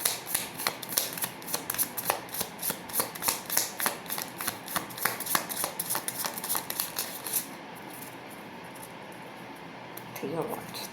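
Tarot cards shuffled in a fast, rhythmic run of crisp riffling bursts for about seven seconds, then a brief pause and a softer final shuffle, close and clear with no talking.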